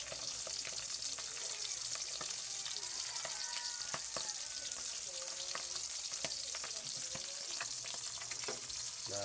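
Milkfish (bangus) frying in a pan gives a steady, close sizzle with scattered sharp crackles and pops throughout, and no voices.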